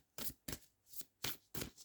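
Rumi oracle cards being shuffled, five quick crisp riffling bursts in a steady rhythm, close and fairly quiet, with no voice.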